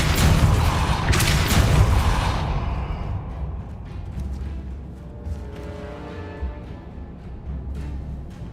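A Depulso force spell cast in Hogwarts Legacy: a loud, bright magical blast at the start that rolls off into a lingering rumbling decay and fading ambient tones over several seconds, with no talking.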